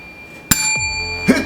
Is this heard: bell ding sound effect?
yes